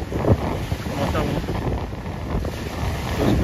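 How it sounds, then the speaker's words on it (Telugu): Large ocean waves roll in at Altona Beach, beside a boardwalk where fishermen gather. Cold wind buffets the microphone, and the surf keeps up a continuous broadband wash with louder gusts. "వేవ్స్ అనేవి చాలా పెద్దగానే వస్తున్నాయి"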